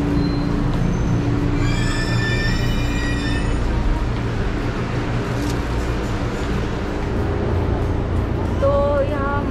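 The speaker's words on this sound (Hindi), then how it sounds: "ये एक यूनिक ट्रेन है, पुराने ज़माने का टाइप का एक है, ट्राम टाइप का कुछ तो ट्रेन है" Old-fashioned tram-type train at Matsumoto station in Japan, rumbling steadily with high wheel squeals early on, loud and close, while people talk nearby.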